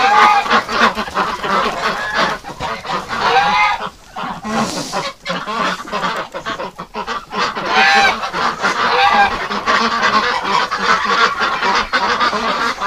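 Geese and ducks wintering on a farm honk loudly and almost without pause, a dense, close chorus of overlapping calls that fills the whole stretch.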